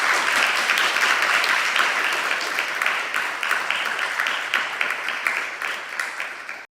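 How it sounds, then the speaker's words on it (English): A seminar audience gives a warm round of applause, with dense, steady clapping that thins into fewer scattered claps before stopping abruptly. "could you please give them all a warm round of applause"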